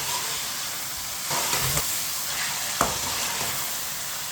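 Chicken seasoned with salt sizzles and fries steadily in a pan while a spoon stirs it, with a few scraping knocks and a brief metallic clink standing out above the constant hiss.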